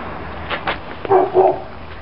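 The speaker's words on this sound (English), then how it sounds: "with the dog barking in the background" Dog barking outdoors on a sunny day in a garden, a few short distant barks and yips in quick succession, fairly faint in the background.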